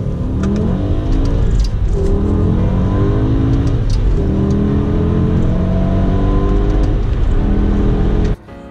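A BMW E60 M5 with SMG transmission accelerates hard, its engine climbing loudly through several rising sweeps with distinct gear shifts between them, close and continuous until it cuts off abruptly near the end.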